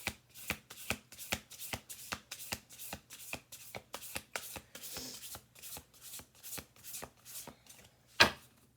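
Oracle cards being shuffled by hand, a steady series of about twenty crisp riffling slaps at an even brisk rhythm, close and soft, ending with one sharper snap.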